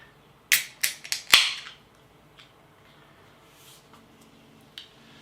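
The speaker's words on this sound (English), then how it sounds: "A little bit of smoke on the can opening," A can of Roosters Sawtooth Mountain IPA, a British craft beer, cracked open: a quick cluster of four or five sharp clicks and pops in close succession, followed by faint fizzing and a few soft taps in quiet surroundings.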